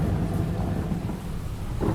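A rain and thunderstorm sound effect in a spoken short story: a heavy, continuous roar of rain with deep rumbling thunder, loud and unbroken, with no voices over it.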